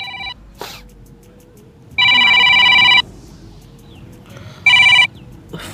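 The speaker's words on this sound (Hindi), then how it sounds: "फोन तो बजते रहते हैं।" A telephone rings in two clear electronic bursts about two and a half seconds apart, each lasting roughly a second, over quiet room background with a few faint clicks in between.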